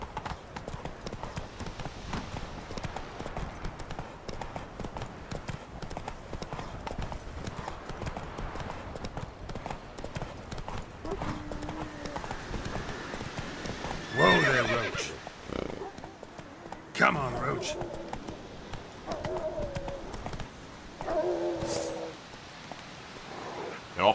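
A horse in The Witcher: Wild Hunt clops along steadily in a continuous hoof rhythm, then snorts and whinnies several times, loud bursts over a quieter game soundscape with someone talking at moments.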